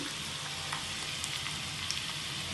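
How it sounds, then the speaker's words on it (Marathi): Garlic frying with cumin in hot oil over low heat for a coriander chutney, a quiet, even, continuous crackling sizzle like light rain, close and without a break. "लसण चांगला खरपूस होईपर्यंत परतून घ्यायचं"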